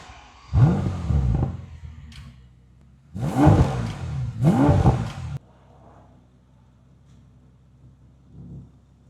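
A 2019 Bentley GT's W12 engine pulls hard on the road in three loud, rising acceleration bursts separated by quieter cruising, each swelling up and then cutting off, ending in a low steady drone.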